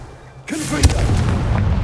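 Casting the Confringo spell in the Hogwarts Legacy video game sets off a sudden loud fiery blast, then a sustained roaring rumble that carries on to the end.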